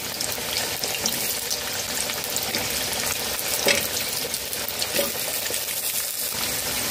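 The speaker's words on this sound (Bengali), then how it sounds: "হাই ফ্লেমে আলু ভেজে নেব।" Six medium potatoes fry in hot oil over a high flame, a dense, continuous sizzle close by with occasional sharper pops and stirring clatters.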